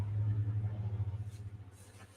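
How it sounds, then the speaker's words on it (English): Cars riding by outside on a June day, heard as a steady low engine and road rumble from passing traffic, moderately loud and slowly fading, with no talk. "You can hear the cars riding by."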